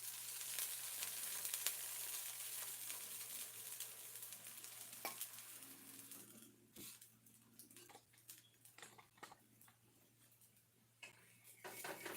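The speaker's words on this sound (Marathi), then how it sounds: "हा तवा गरम केला होता त्याच्यातच आता डोसे करून घेते" Dosa batter cooking on a hot griddle (tawa) that was heated for flatbreads, giving a steady soft sizzle with occasional utensil scrapes and clinks, fading quieter midway and close by.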